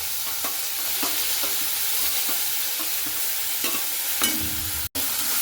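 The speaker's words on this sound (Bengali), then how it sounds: "এরপরে সরিষা শাকটা দিয়ে খুব ভালো করে দেখুন কাঁঠালের বীজের সঙ্গে এভাবে আমি নাড়াচাড়া করে নিচ্ছি" Drumstick greens being stirred with fried jackfruit seeds in a pan, giving a steady close sizzle broken by a string of scraping strokes from the spoon against the pan.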